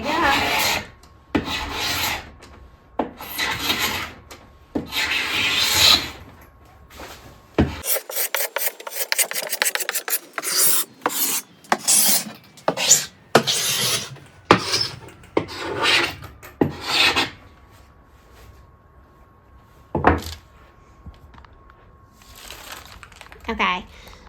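An angled scraper, pushed with both hands, rasps old finish off a wooden dresser top in rough, close strokes. The strokes come separately at first, then in a fast run of rapid scrapes, with brief pauses between.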